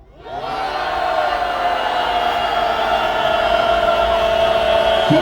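Large crowd at an anti-impeachment political rally roars in a sustained, loud collective shout and cheer that swells within the first half second and holds steady throughout.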